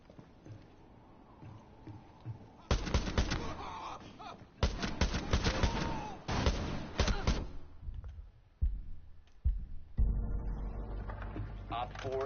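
Single-fire gunshots in a video game crack out as separate loud bursts in an uneven sequence, interspersed with quieter game noise and someone talking between the shots.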